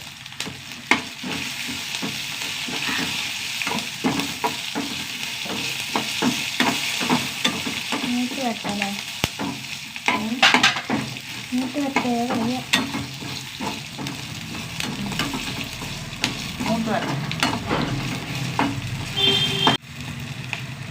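Fenugreek seeds, dried red chillies and curry leaves fry in hot oil for sambar, a continuous close sizzle with scraping stirs and occasional spoon knocks against the pan, steady and fairly loud, with no voices.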